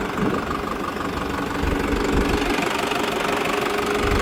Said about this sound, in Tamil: இன்ஜினோட சவுண்ட் பாருங்கள் எப்படி இருக்குதுன்னு.